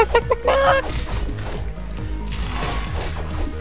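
Cartoonish chicken clucking from the video game Castle Crashers in a winter village level, a few quick close clucks at the start followed by busy game music and effects.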